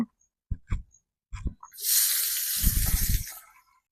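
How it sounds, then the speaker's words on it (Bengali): Chopped onions tipped into hot oil while cooking egg do pyaza: a few clunks and taps, then a sudden loud sizzling hiss that holds for over a second before fading. "এবার দিয়ে দেব এই কুচানো পেঁয়াজগুলো কুচানো পেঁয়াজগুলো তেলের মধ্যে আমি দিয়ে দেব"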